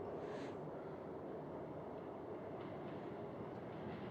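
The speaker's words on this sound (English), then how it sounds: "That's a real subway car." A real subway car rolling along with a steady, dense rumble and rattle of wheels on track, continuous and fairly loud throughout, with no talking.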